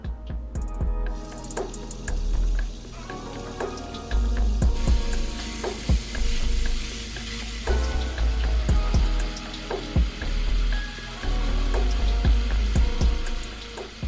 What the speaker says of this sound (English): Using a skillet on medium-high heat, add the olive oil, followed by the ground beef.